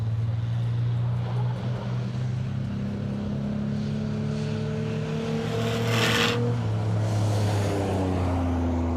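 A race car laps Hythe Motor Speedway during time trials, its engine droning steadily at a distance, then rising in pitch and loudness as it sweeps closer around six seconds before easing off again.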